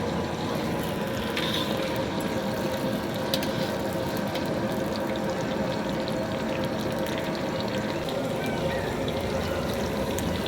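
Ginger and green chilies frying in hot oil for a venpongal dish, giving a steady, dense sizzle and crackle that runs evenly and loudly through the whole stretch with no talk over it.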